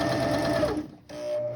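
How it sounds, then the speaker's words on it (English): A sewing machine stitches down a fabric ruffle in a fast close whirring run that stops briefly and then starts again, loud and without talk. "I'm just gonna go ahead and stitch going down"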